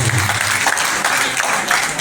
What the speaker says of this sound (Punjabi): ਇੱਕ ਵਾਰ ਜ਼ੋਰਦਾਰ ਤਾਲੀਆਂ